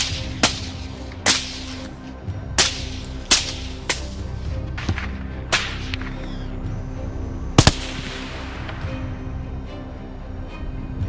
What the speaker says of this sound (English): The sound of gunfire caused the herd of wild boars to become agitated.